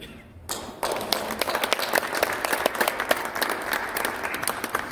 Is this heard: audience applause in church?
yes